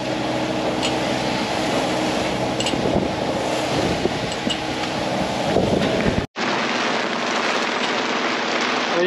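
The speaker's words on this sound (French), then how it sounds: "Et là maintenant c'est grosse pluie." Heavy rain pours down on a sailboat at sea in a dense, steady roar with wind gusting across the microphone; the sound briefly cuts out, then resumes just as strong.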